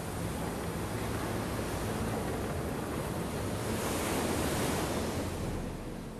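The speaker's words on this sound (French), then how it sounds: "la tempête tropicale Beryl qui pousse des vagues puissantes qui creusent le sable de la plage" Powerful waves whipped up by Tropical Storm Beryl crash onto a sandy beach at Rockaway in Queens, a loud, unbroken roar of surf and wind-blown spray that swells slightly toward the end.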